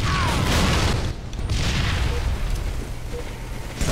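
A grenade blast in a battle royale video game, a broad rumbling boom that swells loudly at the start and decays over a few seconds into a lingering low roar.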